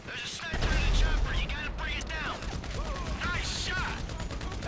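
Gunfire in GTA V, a loud shot kicking off a busy stretch of rapid cracks and mechanical clatter mixed with game effects, while people talk over it.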